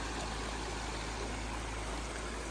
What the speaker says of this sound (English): we have a 2-inch dump line that also powers 10 of the jets for the main pond